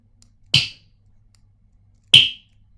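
Two crisp synthetic snare hits made in Serum, about a second and a half apart, each a sharp noisy crack with a quick decay, alone against silence.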